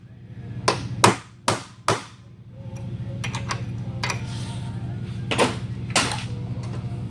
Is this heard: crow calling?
no